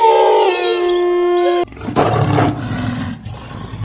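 A lion roars in an animated story about Mother Earth talking with forest animals, a loud, drawn-out roar that follows a bright tonal musical passage and trails off alone.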